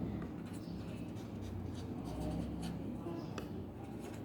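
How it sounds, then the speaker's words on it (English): Marker or chalk scratches on a classroom board in a steady run of soft strokes, close and continuous, over a low room hum with no talking. "and we write on this."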